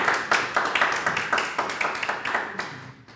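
A concert audience applauds an orchestra with rhythmic, fairly loud clapping in even, pulsing beats that fade toward the end.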